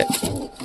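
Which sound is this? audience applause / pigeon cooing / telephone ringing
pigeon cooing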